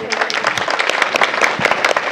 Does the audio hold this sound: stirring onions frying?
no